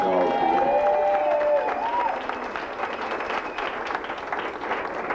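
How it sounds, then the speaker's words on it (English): A crowd at a charity mixed doubles shag dance contest applauds the judges with steady clapping and some cheering, heard over lingering voices and background music. "Let's have a round of applause for them."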